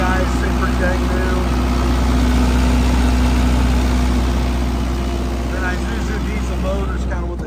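A 2007 Terex T45 generator engine runs at a steady, loud, close idle, its low rumbling drone continuing unbroken while a person talks over it.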